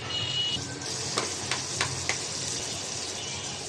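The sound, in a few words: garlic paste added to frying onions, sizzling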